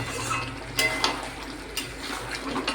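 Chicken curry, about 500 grams, frying in a pan and being stirred, with a steady close sizzle and several sharper scrapes and clinks of a utensil against the pan.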